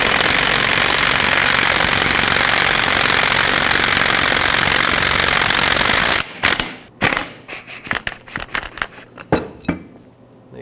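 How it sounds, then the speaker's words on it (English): A ball joint press forcing the upper ball joint out of a 2008-2010 Ford F-250 makes a loud, continuous mechanical roar for about six seconds. Sharp clicks and knocks follow as the work ends. "basically what I'm aiming to do is press this ball joint up and out"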